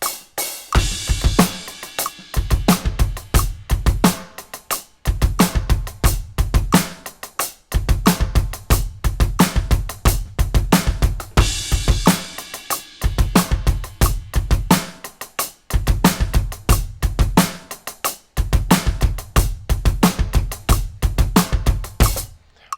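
A drum kit plays a steady groove at 90 bpm, a dense sixteenth-note hi-hat pattern over repeated bass drum and snare hits, close and loud, broken by a few short pauses between phrases.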